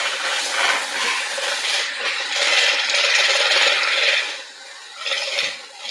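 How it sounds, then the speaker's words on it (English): Chickpea water (aquafaba) being whipped for a vegan cake, a loud continuous whirring and frothing of beaters close up, steady for several seconds then briefly easing and picking up again. "I've literally just poured the water from my chickpeas into here, and I'm just going to whip this up."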